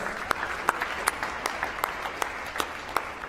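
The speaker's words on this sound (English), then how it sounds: "Please give all of those a round of applause" Sparse applause from an awards ceremony audience, a handful of distinct claps standing out irregularly over a thin, quieter background of clapping.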